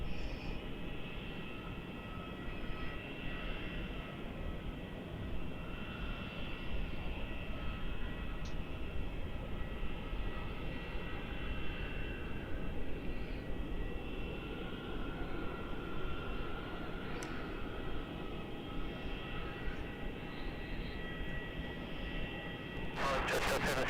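A China Southern airliner at Melbourne Airport makes a continuous broad engine roar, steady and fairly loud throughout, with a faint whine on top.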